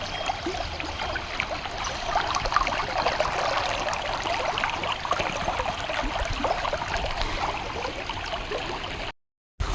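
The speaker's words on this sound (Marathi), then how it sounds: "तुम्ही कसा पाण्याचा खळखळाट आहे भावांनो असा प्रवाह चालू आहे" Water of the Godavari river, fed from a pond, rushes and gurgles in a steady, close, unbroken wash that lasts almost the whole stretch before cutting off briefly near the end.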